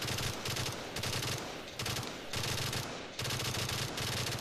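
Stoner machine gun firing in Black Ops 3 Zombies on a Minecraft-style custom map, loud sustained automatic bursts in several long strings separated by brief pauses, close and dominant.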